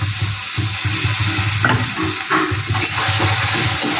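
Tomato paste frying in oil in a pan for a Bengali chela fish curry, a steady close sizzle with soft stirring scrapes running throughout, no voices.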